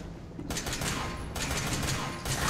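Rapid gunfire in the survival horror game Resident Evil 7, a dense loud burst of shots and mechanical clatter in two sustained bursts with a short break between them.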